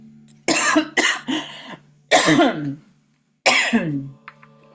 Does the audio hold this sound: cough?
yes